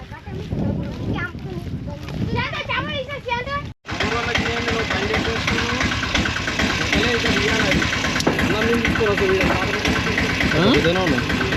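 A vehicle engine idles with a steady mid-pitched rumble beside a village fishing pond, running almost continuously while people talk over it.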